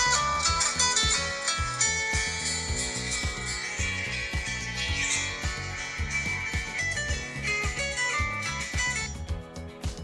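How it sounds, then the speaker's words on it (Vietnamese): A Nokia 6700 Gold mobile phone plays its ringtone, a loud, continuous melodic tune with a steady beat running throughout, heard alone without talk. "Và nghe thử cái tiếng chuông của sản phẩm này."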